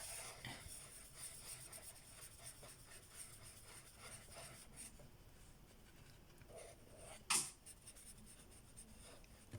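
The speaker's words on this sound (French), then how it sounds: "je vais colorier" A pen colouring in on paper: soft, continuous scratchy strokes close by, with a brief sharper tap or click near the end and no talk.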